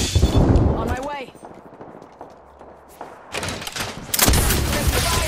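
Air raid bombardment in the game Apex Legends, with heavy rumbling blasts at the start, a lull, then a renewed barrage of explosions, and a voice calling out over it.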